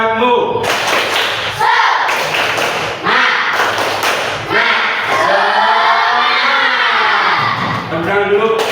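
A classroom group performs a rhythmic clapping chant, loud patterned claps and taps mixed with children's shouted voices, in bursts with short pauses between phrases.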